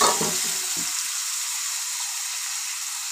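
Tomatoes, mustard seeds and curry leaves sauté in hot oil in a pan for rasam, with a steady close sizzle and a few low stirring knocks at the start, then continuous frying hiss.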